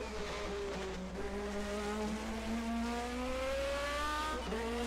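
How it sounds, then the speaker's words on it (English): 1980 DRM Division 2 race car downshifting through a curve at the Salzburgring, the engine note dropping in stepped pitch shifts between gears, then rising steadily, loud and continuous with crowd or track ambience. "Now downshifting."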